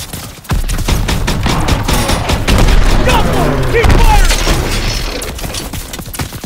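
Dense bursts of rifle and machine-gun fire rattle almost without pause in a Call of Duty WWII story-mode battle, loud and close, with booming impacts and shouted voices mixed underneath.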